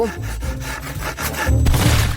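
A saw cuts through a block of frozen sweet gel, giving a steady rasping, rubbing scrape of back-and-forth strokes that grows louder and coarser toward the end, close up with no talk.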